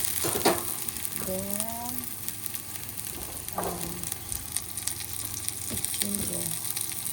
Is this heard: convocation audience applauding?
no